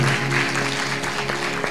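Loud, dense clapping from a congregation during a church sermon, continuous and even throughout with no pauses.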